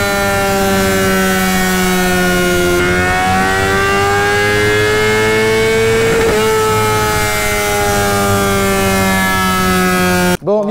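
A Kawasaki ZX10R sportbike engine is held at high revs on a dyno during a tuning run. It makes a loud, close, sustained harmonic whine whose pitch creeps slowly upward, then cuts off abruptly at the end.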